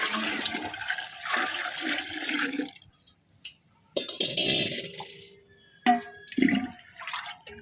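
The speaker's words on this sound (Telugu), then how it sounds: "ఇందులో ఇప్పుడు వాటర్ కలుపుకుందాము" Water gushes and splashes in bursts into a container for watering hibiscus and rose plants, with pauses between pours and some dripping, close by.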